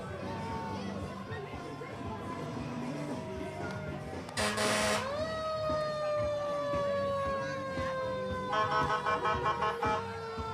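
An ambulance siren at a St. Patrick's Day parade on a street, a loud electronic wail with a falling tone and a sharp burst, then a rapid yelp pattern, sounding close over crowd noise and background talk.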